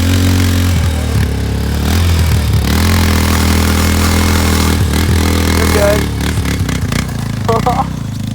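A Yamaha two-stroke engine runs loud and close with a steady buzzing drone, revving up and down, while people shout and talk over it.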